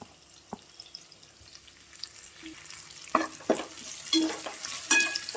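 Green chillies for sambar upma sizzle quietly in a pan, with a few sharp stirring scrapes and clinks growing louder toward the end; no one speaks.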